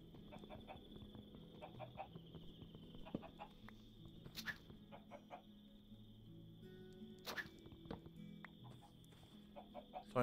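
Chickens in Minecraft cluck in short repeated bursts over a soft steady background, with a couple of sharper clicks in between; the clucks are moderately close and fairly quiet.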